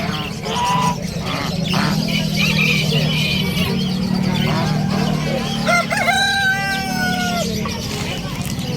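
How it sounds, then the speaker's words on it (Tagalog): A rooster crows loudly nearby at a pet market, its long drawn-out call rising over a busy background of other birds, voices and a low rumble. "Mga manok. Grabe yung manok to."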